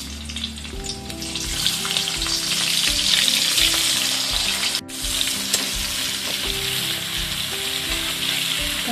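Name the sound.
chopped onion frying in hot oil in a kadhai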